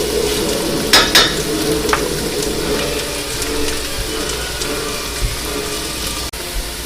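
Carrots and celery stirred in a pot for tomato bisque, with a steady low sizzle and a few brief scraping strokes near the start, close and moderately loud, no voices.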